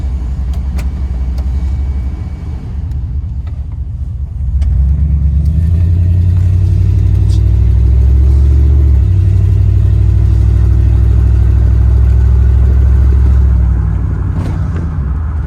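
A modified 1996 GMC K1500 Sierra 4x4 pickup truck drives along, its engine a loud, steady low rumble that swells as it pulls away after a couple of seconds and holds near and constant throughout.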